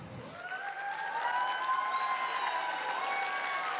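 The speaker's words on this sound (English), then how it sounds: "They're cheering for socks" At a student orientation, a crowd of students cheers and applauds, a steady wash of clapping with whoops and some overlapping voices sustained across the whole stretch.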